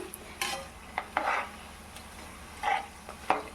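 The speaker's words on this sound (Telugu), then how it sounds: "ఈ విధంగా ఆయిల్లో మనం డీప్ ఫ్రై చేసుకోవాలన్నమాట మొత్తం." Ribbon chips deep fry in oil with a low, steady sizzle, broken by a few separate metallic clinks and scrapes of a utensil stirring in the pan, heard close up with no talking.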